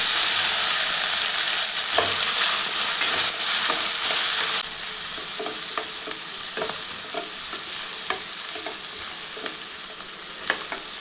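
Onions, green chillies and curry leaves sizzling steadily in a hot pan for a banana leaf koottu, a loud dense hiss that softens partway through, punctuated by occasional stirring scrapes and clicks.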